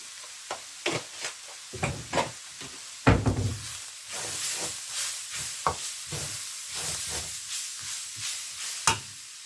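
Spices and chili powder sautéing in a pan for beetroot pulao, with a soft steady sizzle broken by scattered scrapes and knocks of a stirring spoon, close up with no talk.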